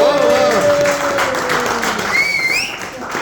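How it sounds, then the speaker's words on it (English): A crowd at a cricket club's annual get-together and jersey handover ceremony gives a volunteer a big round of applause, dense clapping sustained throughout with a few tonal voices or whistles rising over it. "Big round of applause"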